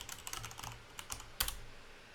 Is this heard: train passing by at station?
no